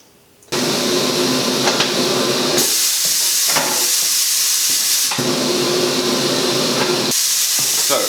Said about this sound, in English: You just remove the core out of the valve stem.